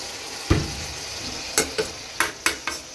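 A curry pan sizzles softly as small amounts of water are added, with a sharp hiss burst followed by several quick clinks of a spoon or spatula against the pan.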